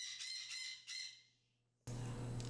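A pet bird named Nande lets out a few sharp, harsh squawks close by, then goes quiet. A louder burst of room noise with a steady hum follows.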